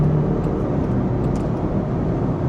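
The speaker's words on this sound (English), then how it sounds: "although it's a 4-cylinder with a 2-liter motor, the noise is insane" A 2022 Land Rover Defender Heritage Edition with a 2-liter four-cylinder engine at full throttle, a steady, loud, low engine drone heard from inside the cabin with no talking.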